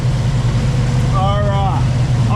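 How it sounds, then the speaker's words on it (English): A 1968 Chevelle's 396 big-block V8 idles high with a loud, steady rumble through the whole stretch, and someone talks briefly over it. "that 396 big block in this 68 Chevelle fires"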